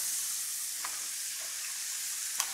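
Mushrooms go into a hot pan and get stirred, giving a quiet, steady sizzle with a few soft scraping clicks from the stirring and no voices.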